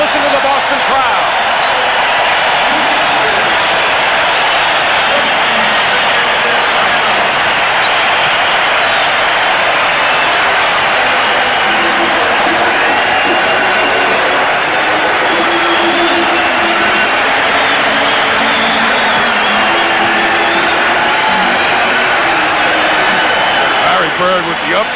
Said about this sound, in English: Listen to the Boston crowd.